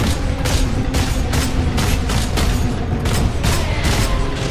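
Rapid bursts of gunfire from a short-range weapon in the Warhammer 40,000 video game Space Marine, loud and dense, with repeated sharp volleys over a steady roar of game noise and no talk.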